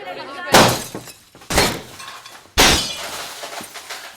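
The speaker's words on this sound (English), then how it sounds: "And then there is this huge noise of shattering glass." Three loud, sudden bursts of shattering glass as windows are smashed in a film scene from Punch-Drunk Love, each crash trailing off in tinkling debris, evenly spaced about a second apart.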